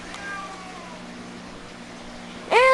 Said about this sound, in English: And the cat named Rexy